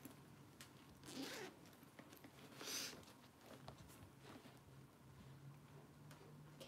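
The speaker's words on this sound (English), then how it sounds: "This is a zipper too." Two quick zipper pulls on a bag, short rasping strokes a second or so apart, followed by faint ticking and quiet handling in a still room.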